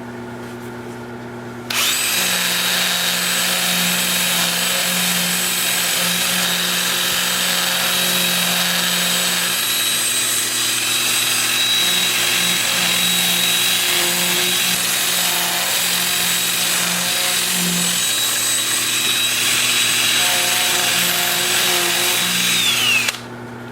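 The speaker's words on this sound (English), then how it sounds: "with the lathe spinning in reverse at about 350, I will start with 80 grit on my 2-inch disc" A wood lathe spins in reverse at about 350 rpm while an 80-grit, 2-inch sanding disc works the wood, giving a steady, loud motorized whine and rasping grind that starts abruptly and runs continuously.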